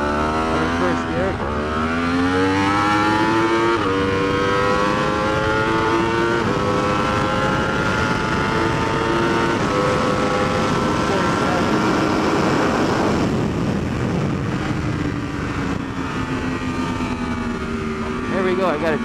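A 2015+ Yamaha R1 superbike accelerates hard on a race track, its engine rising loudly in pitch through the gears with brief dips at each shift. The sound is close and continuous, with heavy wind roar throughout.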